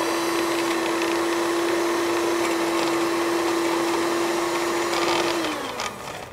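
Steady, loud blender motor whirring continuously while mixing hummus, holding one tone before winding down at the end.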